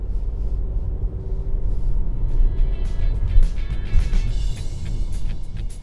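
Volkswagen T-Cross compact SUV driving on a narrow road, heard from inside as a steady low engine and road rumble with tyre noise rising and falling slightly, continuous and moderately loud with no talk over it.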